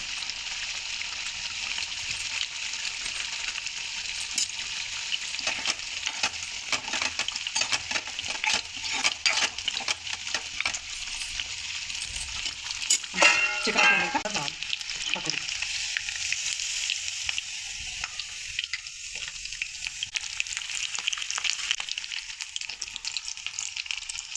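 Chicken pakoda pieces deep fry in hot oil with a steady, dense sizzle throughout, broken by scraping and stirring clatter of a utensil in the pan midway, with no talking.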